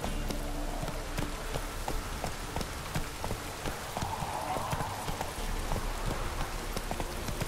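Hooves of the horse Roach clip-clop in a quick gallop in The Witcher 3 game, heard with a rain-like patter and soft background ambience and no talk.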